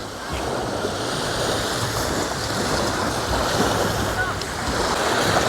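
Sea waves wash steadily beneath a beach pier, a continuous broadband surf roar with some wind buffeting the microphone, holding at a constant moderate level throughout.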